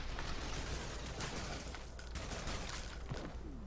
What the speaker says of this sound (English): I think this thing's like a nail gun or something. Yeah, this is like a bolt gun.